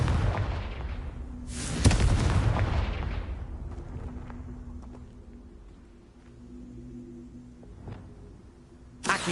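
A Confringo fire spell explodes in Hogwarts Legacy on PS5, a heavy booming blast near two seconds rolling off into a long rumbling decay, with a softer thud later and another sharp hit right at the end.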